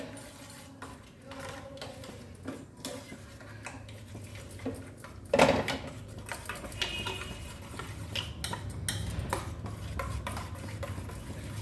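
Egg and milk batter for an egg dosa is whisked with a spoon, giving steady, close scraping and light ticking against the bowl with a few louder knocks, and no talking.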